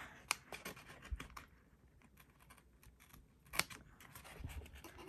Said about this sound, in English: I'm going to get this time these little Fisker scissors. They're non-stick.